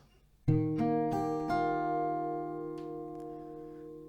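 Acoustic guitar playing the C part of a song, a few plucked notes ringing out clearly in a quiet room and decaying slowly.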